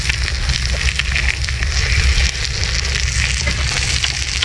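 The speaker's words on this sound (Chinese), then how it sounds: "煎的小鱼儿，这石板它里面含铁，所以吧，煎的特别快" Small fish fry on an iron-rich stone slab set over an open fire at a desert campsite in the Xinjiang Gobi, giving a loud, close, steady crackling sizzle throughout with no talk.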